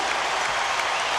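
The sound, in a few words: crowd applauding at Lakers vs Sacramento basketball game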